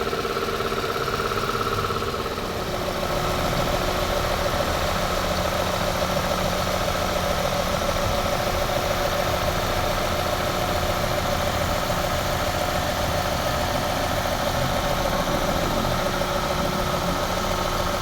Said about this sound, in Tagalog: Pero yung makina niya pinong-pino na,